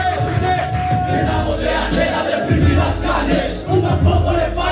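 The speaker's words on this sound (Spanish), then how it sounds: "¡Un aplauso!" A crowd at a live show cheers and shouts to welcome the group Sociedad FB7 onstage, a loud, dense roar of whoops and voices that carries on throughout with brief surges.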